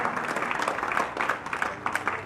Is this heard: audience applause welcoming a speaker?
yes